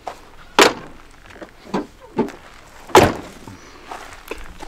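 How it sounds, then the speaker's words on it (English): Vehicle doors being shut at a desert campsite; two loud, sharp slams with several softer thunks and handling knocks in between, close by. "Shut my doors."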